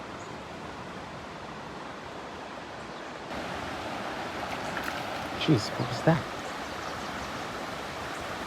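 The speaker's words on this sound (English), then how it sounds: "Another fish jumping. Whoa, did you see that? That one leapt clean out of the water." Trout leaping clean out of a stream and splashing back, two or three sharp splashes near the end over steady flowing-water noise, with a man exclaiming between them.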